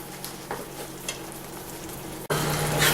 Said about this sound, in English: We're just going to let this brown simmer here in its juices for a few minutes and cook some.